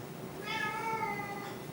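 A black cat meows in a drawn-out, whining cry lasting about a second, close and fairly clear over a steady background hum.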